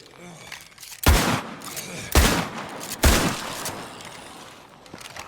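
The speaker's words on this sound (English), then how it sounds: "that shotgun sounds good" Three heavy, booming shotgun blasts in State of Decay 2, loud and close, evenly spaced about a second apart with fading tails and quiet background between.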